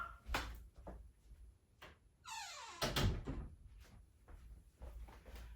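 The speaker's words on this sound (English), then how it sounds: "Let me close my door." A door closes in a quiet room: a creaking swing and rustle, then a solid thunk of the latch shutting near the listener, followed by a few soft knocks and bumps.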